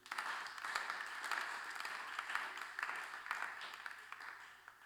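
Church congregation applauding in praise of Jesus during a French-language sermon: steady, fairly distant crowd clapping that swells and fades in waves over about five seconds.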